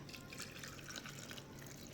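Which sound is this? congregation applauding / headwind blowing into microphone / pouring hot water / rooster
pouring hot water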